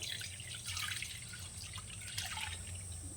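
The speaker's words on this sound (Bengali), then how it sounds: "প্রথমেই দেবো একটু জল তারপর দিয়ে দিচ্ছি দুধটা" Water and milk pour into a pot in the kitchen, a soft, quiet trickle and splash that runs steadily for a few seconds with no one talking.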